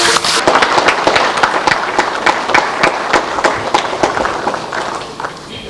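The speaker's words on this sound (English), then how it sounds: "let's give a round of applause for the conclusion of the signing" Sustained applause from the audience at the closing session of the 3rd FSM Constitutional Convention in December 2001, marking the conclusion of the signing, a dense wash of many hands clapping steadily before slowly fading out.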